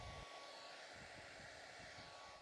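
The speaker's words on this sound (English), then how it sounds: "it's time to use the hairdryer and bring these waves to life" A hairdryer blows steadily on white and clear epoxy resin poured to form ocean waves, its airflow a constant close whooshing hiss that starts with a brief louder burst and then holds unchanged, with no voices.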